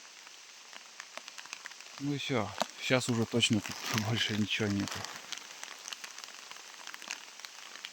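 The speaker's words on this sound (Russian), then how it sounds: "Капец, дождь идет." Rain falls in a forest during blueberry picking, a steady soft hiss with scattered patters throughout while someone talks in the middle.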